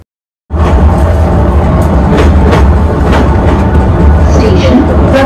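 A Kolkata metro train pulls into Kavi Subhash station in New Garia with a loud, steady rumbling roar that starts abruptly after a moment of silence and holds near and heavy throughout.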